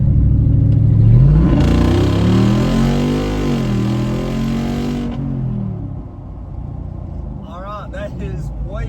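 A tuned Jeep Rubicon 392 engine accelerates hard on a back road, loud and close, its revs climbing in a rising sweep before easing off into a steadier drone, with a brief voice near the end.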